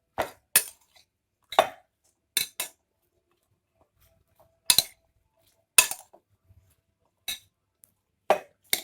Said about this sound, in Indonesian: Kita aduk bawang putih di dalamnya.